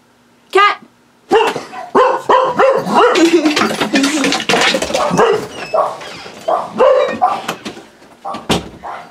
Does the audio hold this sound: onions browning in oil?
no